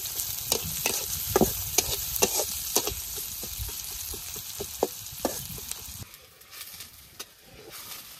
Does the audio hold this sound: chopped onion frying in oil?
yes